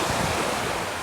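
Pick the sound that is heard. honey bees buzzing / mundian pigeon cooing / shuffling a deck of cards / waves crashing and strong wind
waves crashing and strong wind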